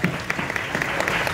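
Applause from a theater audience at a conference for the Coco festival, honoring the Coco Lab stage company; a dense, steady wash of many hands clapping, fairly loud and continuous with no voices over it.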